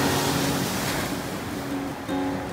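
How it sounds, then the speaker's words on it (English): Ocean waves break on a shallow reef off Hawaii, a steady close wash of surf with wind rumble and no talk. "see what waves are picking up? That's the shallow reef"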